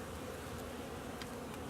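Honeybees flying outside their hive on a warm January day, a steady faint insect buzz with no talk.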